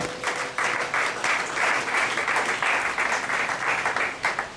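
A church congregation applauds and cheers in praise during a French-language sermon, dense steady clapping filling the room for several seconds with scattered voices mixed in.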